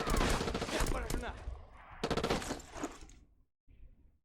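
Sniper rifle fire in an online multiplayer shooter, heard as sharp gunshot bursts amid game effects, with players talking over it.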